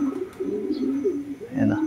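Racing pigeons coo softly and repeatedly close by, their low throaty calls overlapping in a gentle, irregular rhythm.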